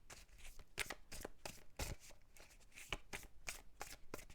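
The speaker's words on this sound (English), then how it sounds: "Two more shuffles." A deck of tarot cards being shuffled by hand, a series of quick crisp riffling snaps and rustles repeating in an uneven rhythm, close and fairly quiet, with no talk.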